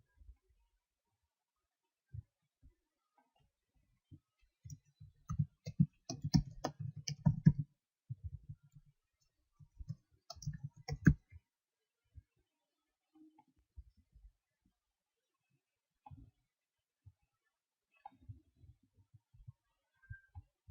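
Computer keyboard typing while writing a WordPress post: faint, sparse clicks and short bursts of keystrokes, with a denser flurry early on and scattered taps afterward, quiet and close.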